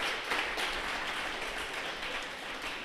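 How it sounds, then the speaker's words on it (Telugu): An audience at a church thanksgiving meeting clapping in a dense, steady burst of applause that fills the room for a few seconds. "మనం గట్టిగా చప్పట్లు కొట్టాలి"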